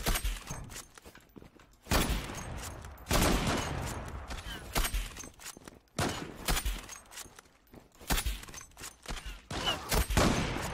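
Gunfire in the online shooter Zula, repeated bursts of rapid shots coming in clusters with short pauses between them, fairly close and sharp throughout.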